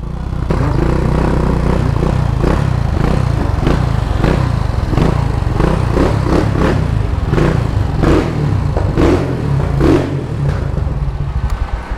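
A Fiat Strada pickup fitted with a swapped Yamaha XT660 single-cylinder motorcycle engine runs loud and close, its rough throbbing idle broken by repeated blips of the throttle across the whole stretch.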